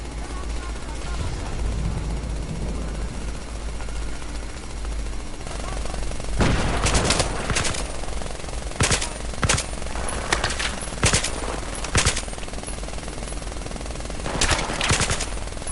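Gunfire in the shooter game Battlefield 3: rapid automatic bursts crackle in several loud clusters over a steady low rumble of battlefield ambience, with short gaps between volleys.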